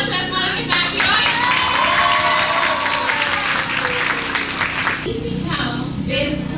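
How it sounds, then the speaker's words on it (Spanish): Steady applause from a crowd at a family reunion, clapping for the mothers present, fills the space, with a few voices and cheers mixed into the clapping throughout. "vamos a dar un aplauso a las madres que están aquí hoy"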